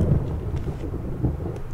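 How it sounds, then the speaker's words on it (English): Low, rolling thunder outside the mansion in Resident Evil REmake HD, a steady rumble with a couple of soft swells across a short stretch and no speech over it. "That's the thunder outside."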